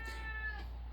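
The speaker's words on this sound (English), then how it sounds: "sorry, that's my cat" A house cat gives a single drawn-out meow, close and clear, lasting under a second with no talk over it.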